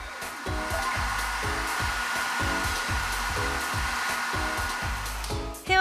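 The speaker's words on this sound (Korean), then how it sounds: "강력한 모터로 열기를 순식간에 뿜어내는 헤어드라이기를 슐리렌 장치 앞에서 작동시키면 어떻게 보여질까요?" A hair dryer runs steadily at close range, its motor blowing hot air in a continuous broadband whoosh, with a faint repeating musical pattern underneath throughout.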